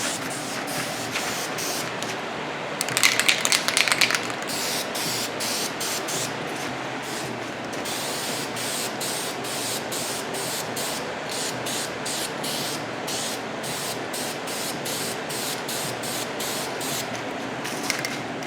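Aerosol spray can fogging metallic paint onto a drag bike fairing, long hissing bursts with short pauses between passes, close and steady, including a louder sputtering stretch early on.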